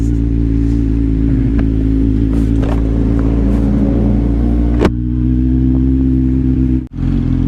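A 2020 Z1000R Edition motorcycle with an SC Project mid-pipe exhaust idles with a deep, throaty exhaust rumble, steady throughout, with a couple of brief clunks and a sharp dip near the end.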